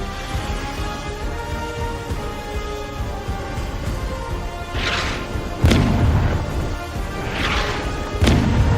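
Drone strikes in wartime combat, heavy booming explosions landing one after another over a constant rumbling background, with two sharp loud blasts standing out near the end.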